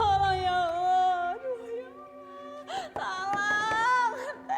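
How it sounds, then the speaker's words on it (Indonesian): Someone crying in a tense drama scene, a continuous high wailing sob with wavering pitch and brief catches of breath, loud and close throughout, with no clear speech. "Ada suara yang nangis."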